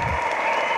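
Audience applause greets a speaker at a Stalin birthday event, a steady dense wash of clapping from a crowd filling the whole short moment with no voice over it.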